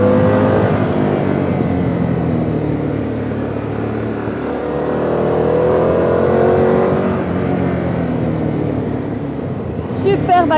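Harley-Davidson Pan America 1250 motorcycle, 2023 model, accelerating hard with a rising engine note and revving throughout, loud and close, with a brief rev burst near the end.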